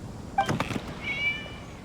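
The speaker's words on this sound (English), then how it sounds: "It was just a cat." A cat meows in the video game Genshin Impact, a short clear call followed by a second drawn-out meow, close and alone with no talk over it.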